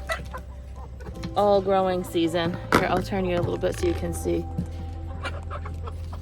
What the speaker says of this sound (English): the chickens are having a fit